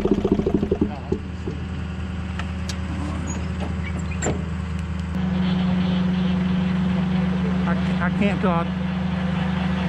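A Bobcat engine runs steadily at a low drone, its pitch stepping up partway through as it revs, with a brief exclamation from a man near the start.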